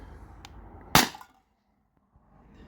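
A .50 caliber Beeman BP50 launcher pistol firing one shot at a can, a single sharp crack up close, then near silence.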